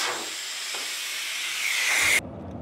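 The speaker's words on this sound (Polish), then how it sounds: "dźwięki wulkanizatora" Compressed air hisses loudly and steadily at a tyre repair shop, rising slightly before cutting off abruptly near the end, leaving a faint low background.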